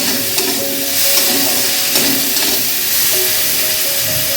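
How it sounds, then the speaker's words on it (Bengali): Prawns frying with onion and three slit green chillies give a close, steady sizzle, with occasional scrapes and clinks from stirring in the pan. "এবার আমি চিংড়ি মাছটাকে ভালো করে পেঁয়াজের সাথে ভেজে নেব"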